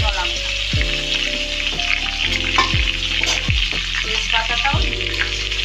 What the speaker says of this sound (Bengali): তেল গরম হয়ে গেছে, এবার আমি দিচ্ছি পেঁয়াজ কুচানো, গোটা গরম মশলা আর